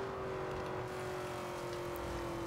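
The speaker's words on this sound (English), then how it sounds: "It's literally just a racing car." A racing car in Forza Horizon 2 holds a steady, droning engine note at sustained revs, loud and close with a constant whine and no talking.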